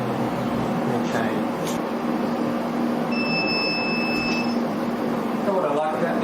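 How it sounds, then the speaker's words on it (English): A Trocen laser engraver controller sounds a clear electronic beep tone lasting about a second on receiving a file, over steady background hum and a person talking. "it gives a beep when the file's been received from Lightburn"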